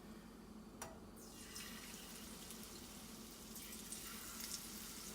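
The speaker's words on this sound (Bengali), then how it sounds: "এবার আমি আস্তে আস্তে করে ডিমগুলো দিয়ে দেব" Batter-coated eggs fry in hot white oil in a wok, giving a soft, steady sizzle and bubbling hiss that continues evenly throughout with no one talking.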